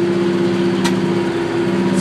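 A McCormick tractor's Yanmar diesel engine runs at a steady idle, giving a constant low droning hum with a faint tick partway through and no voices.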